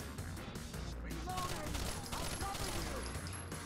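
Rapid gunfire rattles in the tactical shooter Rainbow Six: Vegas, bursts of shots fired through cover amid game ambience, moderately loud and dense across the moment.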